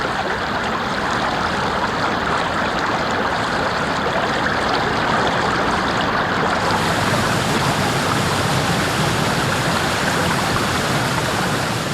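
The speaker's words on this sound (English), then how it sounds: "resulting in streams which flow constantly the year round" A mountain stream in the Great Smoky Mountains rushes steadily over rocks, a loud, constant broadband wash of running water with no pauses and no voices.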